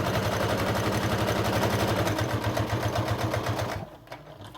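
A sewing machine stitches a Valentine's Day placemat with a fast, steady mechanical chatter that runs loud and close for nearly four seconds before stopping abruptly, leaving a few faint clicks.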